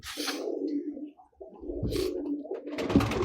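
Pigeons coo close by in soft, throaty runs, a couple of low burbling calls following one another with a short pause between.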